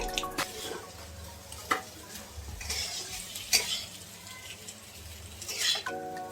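Moth beans (matki) with turmeric and salt are stirred in a pan over low gas, making a faint sizzle broken by soft scraping and clinks of a spoon against the pan at irregular intervals.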